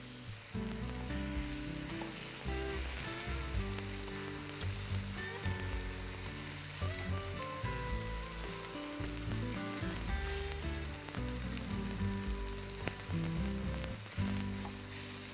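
Coriander and spring onions frying fast in a pan for a chicken coriander dish. A constant, dense sizzle runs for several seconds under a busy background layer and stays steady throughout, with no one speaking.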